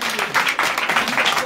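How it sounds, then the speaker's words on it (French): Crowd applause at a surprise event held at a foundation, a steady dense wash of clapping through the whole moment with some voices mixed in. "on applaudit moun sa"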